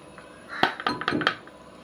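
Crumbled bread is tipped into a bowl, giving a short cluster of close clinks and knocks against the dish.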